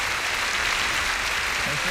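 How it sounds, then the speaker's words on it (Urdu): Steady continuous applause from a church audience at a faith show, dense clapping filling the whole moment at even loudness, with a faint voice beneath. "آئیں خدا یسوع کے لیے تالیاں بجائیں دیجیے"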